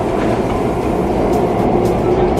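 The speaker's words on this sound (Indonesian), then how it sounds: "Ini kita lagi naik MRT nih ya." Steady rumble and rattle of a Singapore MRT train from inside a moving carriage, a continuous loud drone with faint rhythmic clicks and no voices.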